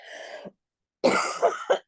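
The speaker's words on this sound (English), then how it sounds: "I developed this cough." A person coughs close by, one short cough followed after a pause by a harsher fit of two or three coughs.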